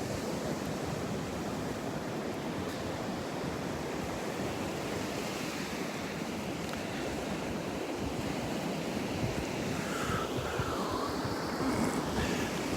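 Surf washing onto Delnor-Wiggins beach, a continuous broad hiss of breaking waves mixed with some wind buffeting the microphone, steady throughout with no talking.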